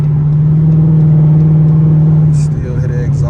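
A Dodge Charger R/T with a straight-pipe exhaust drones steadily from inside the cabin with the windows up, a deep, constant low rumble that eases slightly near the end.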